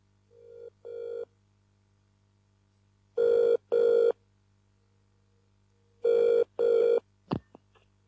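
A telephone ringing in an office setting: two loud double-pulse rings separated by a pause, followed by the click of the receiver being picked up, with no voices.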